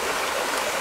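A stream flowing at the site of the Slavic sanctuary Rethra, a short, steady wash of running water with no voices over it.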